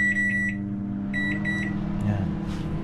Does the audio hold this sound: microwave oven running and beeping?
yes